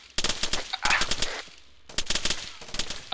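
Rapid bursts of automatic gunfire from Arma 3 crackle in several close, loud volleys separated by short pauses.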